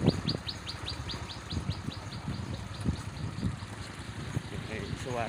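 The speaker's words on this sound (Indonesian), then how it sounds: "Suara burung masih kedengaran." Birds chirp in a fast, repeating series of high tweets, fairly faint, on a rural village road. A low engine rumble and a voice talking sit underneath the birdsong.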